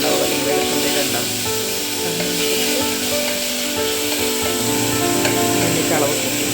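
Onions sautéing in a pressure cooker for egg biryani, a steady close sizzle and hiss with faint stirring scrapes, continuous and even throughout.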